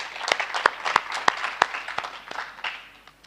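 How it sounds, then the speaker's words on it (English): Applause at a 65th birthday celebration: a crowd's dense, lively clapping rolls steadily for a few seconds, with sharp individual claps popping out near the front before the sound thins toward the end. "Can we give us a round of applause for that?"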